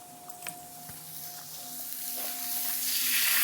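Vegetables and garlic sweat in a pan, giving a soft, steady sizzle that grows slowly louder, with a few faint clinks near the start and no talking.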